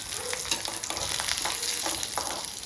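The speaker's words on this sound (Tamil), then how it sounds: "கடலைப்பருப்பு உளுந்தும் நல்லா கொஞ்சம் பொரியிற வரைக்கும் வெயிட் பண்ணி நம்ம கிண்டணும்" Chana dal and urad dal fry steadily in hot oil, a continuous close sizzle broken by soft scraping as they are stirred in the pan.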